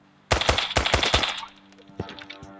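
Gunfire in a video game, a rapid burst of five or six loud, sharp shots close together that fades out, then one fainter shot a moment later.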